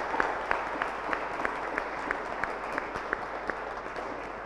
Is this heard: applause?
yes